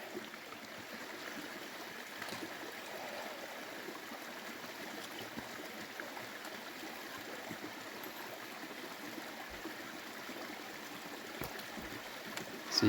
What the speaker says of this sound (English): This is actually a Franconia brook.